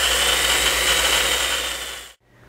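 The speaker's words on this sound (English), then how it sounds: "press and hold the trigger until the spindle returns back to the 0 degree starting position" A DB32 electric pipe bender spindle runs in reverse with a steady, close mechanical motor whine and hum, then cuts off abruptly near the end, leaving a faint residual hum.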